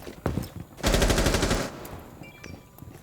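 Rapid bursts of automatic gunfire in Rainbow Six, one long fast volley and scattered shorter shots, with game-like sound effects and faint background noise.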